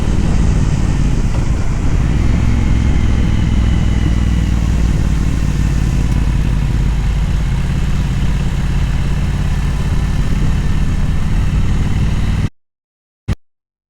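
A motorcycle rides a winding mountain road on La Gomera with steady engine drone and wind rush, loud and continuous, then it cuts off abruptly near the end before a short knock.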